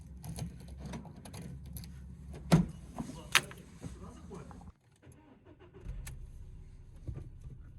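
A Volkswagen Polo car idles and shifts with low engine rumble, a couple of sharp clunks like a door or keys, and nearby voices talking over the engine noise.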